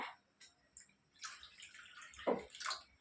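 Water pours into a pot of sea fish curry (chepala pulusu) cooked the old-fashioned way, a soft splashing and trickling that swells over the last two seconds after a quiet start.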